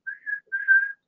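A person whistles two clear, sustained notes, the second longer than the first, alone and close.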